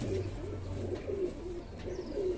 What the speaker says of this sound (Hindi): बहुत नायाब कबूतरी है ये उनकी